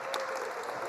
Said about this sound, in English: One more round of applause for the cast, please.